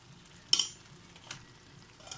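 Egg curry cooking in a pan as garam masala goes in: a quiet, low sizzle broken by one sharp metallic clink of a spoon and a few softer stirring scrapes afterward.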